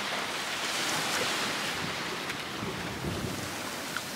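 Sea of Japan waves washing onto the shore, a steady broadband surf wash holding at an even level throughout with wind buffeting the microphone.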